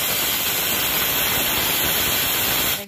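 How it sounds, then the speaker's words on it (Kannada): A pressure cooker on a gas stove lets out a loud, steady whistle of escaping steam, a continuous dense hiss that holds for the whole stretch and cuts off at the end. "ನಾನೀಗ ಕುಕ್ಕರ್ ಇಟ್ಟಿದ್ದೀನಿ, ಈಗ ವಿಶಲ್ ಬರ್ತಾ ಇದೆ"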